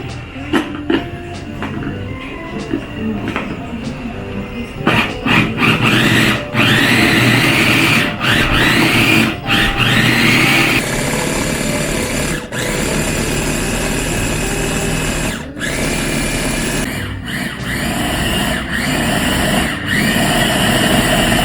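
An electric grinder whirs loudly as it grinds ginger and onion for kimchi. The sustained motor drone starts and stops several times, with a few sharp clicks and bumps in between.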